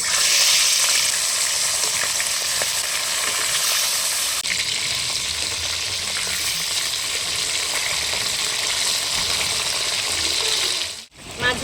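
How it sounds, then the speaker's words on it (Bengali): Loud, continuous sizzling of pomfret fish frying in hot oil, a steady dense hiss that holds throughout before cutting off abruptly near the end. "তেল গরম হয়ে গেছে মাছগুলো ছেড়ে দেবো"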